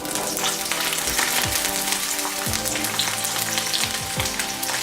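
Whole unchopped garlic cloves fry in about two tablespoons of very hot oil, giving a steady, close sizzle with crackling spatter and a few soft low thumps throughout.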